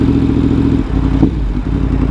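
A Yamaha MT-10 motorcycle engine idles close and loud with a steady low rumble, just after an engine failure repair, with a slight blip and a mechanical clatter midway.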